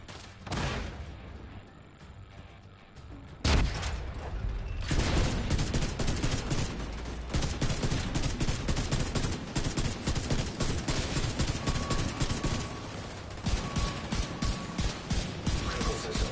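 Loud, sustained automatic gunfire in the video game The Division 2, a dense continuous barrage of rapid shots after a quieter opening, with a faint tonal beep partway through.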